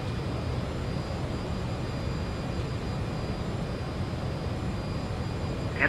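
Airliner engines in Microsoft Flight Simulator 2024, an Ansett jet on short final for runway 32 at Bundaberg, give a steady, even roar throughout with no break or change in pitch.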